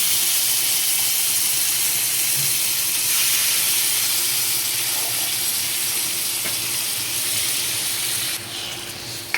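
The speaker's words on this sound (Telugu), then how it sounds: "ఇప్పుడు కొన్ని వాటర్ పోసుకోవాలి" Water poured into a hot pan of sizzling bitter gourd curry gives a loud, continuous rushing hiss of steam and splashing that holds steady for several seconds, then drops off sharply near the end.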